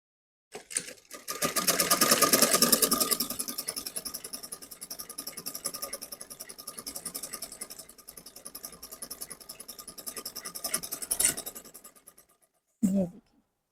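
Sewing machine stitching straight seams in fabric, a rapid rhythmic mechanical clatter that runs close and fairly loud for most of the stretch, easing and stopping briefly near the end, with a voice heard afterward.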